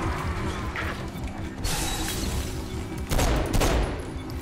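Gunfire in the video game Saints Row IV comes as rapid crackling bursts, a steady rattling spray followed by two heavier, louder volleys.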